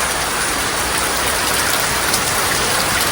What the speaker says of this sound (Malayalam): നമ്മക്കിണ്ട് മഴ, എന്ത് മഴ?